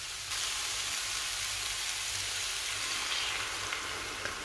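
Sweet potato and butternut squash chunks frying in butter with onion and garlic, giving a steady, even sizzle with soft crackle throughout, close and moderately loud, with no voices.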